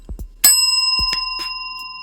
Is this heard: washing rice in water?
no